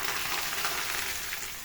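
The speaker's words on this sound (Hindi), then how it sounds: "अब ये तड़का इसके ऊपर जाएगा" Hot desi ghee tadka poured over a dish of turnips, giving a steady, hissing sizzle up close with no talking.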